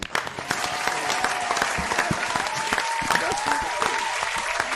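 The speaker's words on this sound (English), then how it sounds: "Get a bishop a round of applause, man." A studio crowd gives a round of applause for a bishop calling in to a live radio show, with dense clapping held steady throughout and a voice talking over it.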